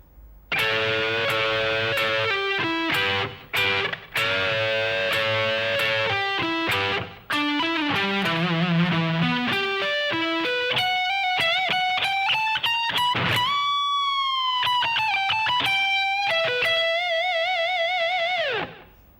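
Slow, overdriven electric guitar phrase with held and bent notes, steady and loud throughout, played alone without any voices.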